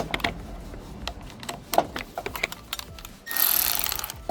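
A ratchet fitted with a 10mm socket clicks in short uneven bursts while loosening bolts on a 2010 Mercedes ML350 4MATIC during a radiator replacement, close and fairly loud, ending in a brief metallic whir.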